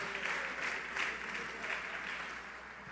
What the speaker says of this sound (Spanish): Denle ese aplauso al que nos ha hecho libres.